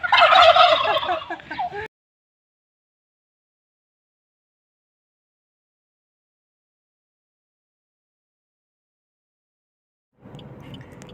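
A loud burst of rapid gobbling fowl calls, then a long silence before faint noise returns at the end.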